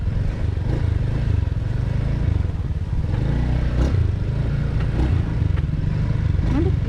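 Motorcycle ride through San Jose, Negros Oriental in the Philippines, a steady close engine drone with rattling clatter and wind noise that continues throughout without talk.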